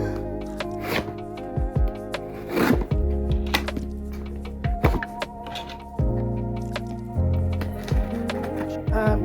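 Scissors opening a package holding a felt desk pad, heard as a series of close crisp snips, rustles and thunks of cardboard and plastic, irregular and alone without speech.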